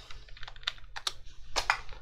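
Quick, close keystrokes on a computer keyboard, a light irregular patter of clicks with a few sharper taps, heard alone and fairly quiet.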